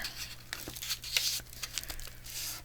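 Paper is folded and creased for a Christmas pocket, with quiet, close crinkles and light rustling taps, some of them sharper than others.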